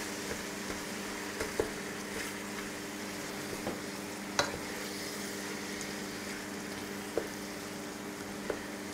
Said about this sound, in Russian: Аккуратненько распределяем его по сковороде. Перемешиваем с лучком, морковочкой